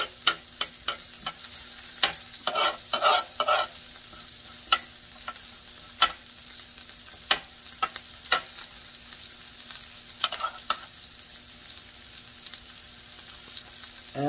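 Salmon fillet frying in bacon fat in a pan: a steady close sizzle broken by irregular sharp pops and crackles, with no talking.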